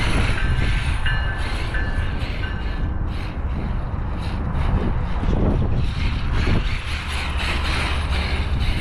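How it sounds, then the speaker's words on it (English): A train rumbles past nearby, loud and continuous, with rhythmic metallic clatter of wheels over the rails throughout. "The train is right there."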